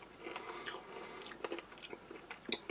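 Crunchy caramel-coated roasted peanuts from a Dutch army ration are chewed close up, a quiet run of crisp bites and crackly mastication in irregular bursts, with no talking.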